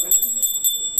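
A small metal bell rings during a home puja, struck in quick repeated strokes with bright ringing tones, close and clear over background voices.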